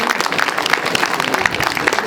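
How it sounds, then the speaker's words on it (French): Audience at a quiz night during a horror-themed evening event applauding, a dense, continuous clapping close by for a couple of seconds with no talk over it. "Ah, on va applaudir."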